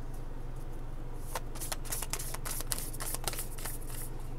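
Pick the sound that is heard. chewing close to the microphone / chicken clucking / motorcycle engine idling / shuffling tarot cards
shuffling tarot cards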